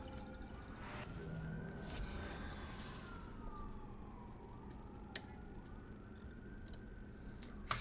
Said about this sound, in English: non-stop cop sirens